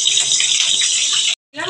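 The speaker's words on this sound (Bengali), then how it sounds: "এখন আমি তেলে পটলগুলো ছেড়ে দিচ্ছি।" Pieces of pointed gourd dropped into hot frying oil, setting off a loud, close, steady sizzle that cuts out briefly near the end and then resumes.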